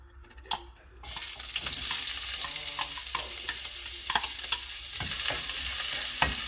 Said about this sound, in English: So we'll just saute that until it's translucent.